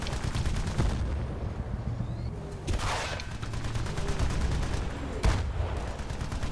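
Gunfire in the video game Battlefield: Bad Company 2: sustained rapid automatic bursts with a couple of sharp louder blasts and rumbling impacts, close and continuous, with occasional voice underneath.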